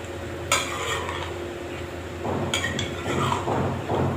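Chicken karahi being stirred in a pan with a little sugar mixture, metal spoon scraping and clinking against the pan in a few distinct strokes over a soft sizzle, fairly close, with no talking.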